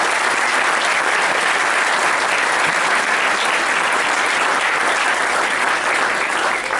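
A university audience at an academic inauguration breaks into dense, sustained applause that fills the room evenly from start to finish, loud and steady without a break.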